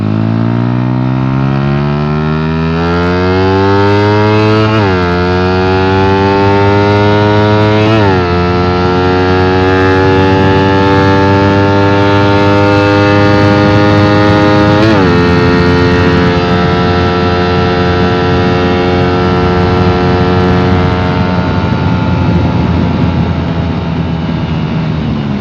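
A Sniper 150 motorcycle engine held at full throttle during ECU tuning: a loud, close, sustained drone whose pitch climbs gradually with a few abrupt steps, with no talking.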